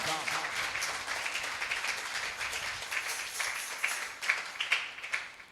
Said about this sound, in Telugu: ఈ సమయంలో ఎంతగానో గట్టిగా చప్పట్లు కొడుతూ దేవుణ్ణి మనము మహిమపర్దాం